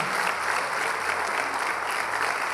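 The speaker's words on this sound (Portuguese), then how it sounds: "Quantos podem aplaudir ao Senhor?" Church congregation applauding together during an evening service, a dense continuous wash of clapping hands that holds steady and loud from start to finish.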